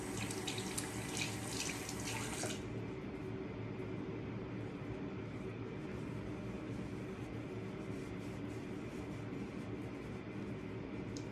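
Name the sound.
rinsing face with running tap water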